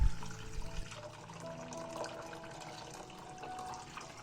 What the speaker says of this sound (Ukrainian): наповнюю каструлю водою